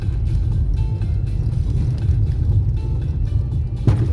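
Cars pass on a foggy, potholed rural road between Lom and Kovachitsa, heard as a steady, loud low rumble of traffic and tyre noise with a brief brighter swell near the end.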